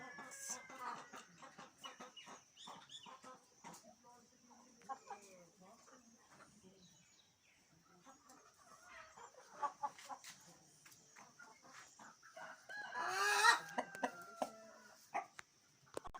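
Light Sussex heritage breeder chickens in a Rawalpindi setup cluck and cackle intermittently, with a louder rooster-like burst near the end, under someone talking and a steady faint background hum.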